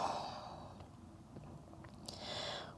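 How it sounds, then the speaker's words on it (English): A full, deep exhale during yoga breathing, a close breathy rush that fades out, followed by a fainter airy breath near the end, with no talking. "Full exhale"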